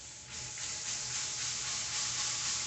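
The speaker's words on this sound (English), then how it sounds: "I'm going to spray some more of that butter." Butter-flavored cooking spray hisses onto a hot pan for corn fritters in a brief, close, steady spray with no talking.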